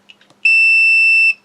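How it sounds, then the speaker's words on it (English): Multimeter continuity test on a flight control board: after a few faint clicks, a single loud, steady electronic beep sounds alone for just under a second. "if you go to ground and ground it will beep, because that's your continuity"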